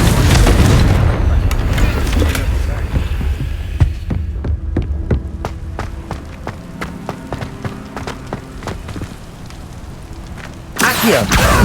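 A loud spell blast in the video game Hogwarts Legacy bursts at the start, then a low throbbing hum with rhythmic pulses and sharp ticks carries on before another heavy burst near the end.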